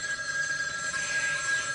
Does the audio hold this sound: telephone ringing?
yes